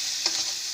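Fish curry masala frying in a pan for a datne fish dish, a dense close sizzle with a brief stirring scrape, steady and without talk.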